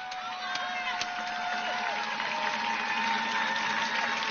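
A crowd at an outdoor counter-protest rally in Washington DC claps steadily and continuously. The applause forms a dense, even wash of sound, and a faint tonal hum runs underneath it.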